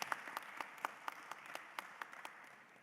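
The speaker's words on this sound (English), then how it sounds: "round of applause for our fabulous panel" A conference audience at the 2023 Intra-African Trade Fair applauds a panel, with sparse, distinct claps spaced out over a few seconds at moderate distance, no voices over them.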